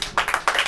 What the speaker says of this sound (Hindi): ताली बजाइए भैया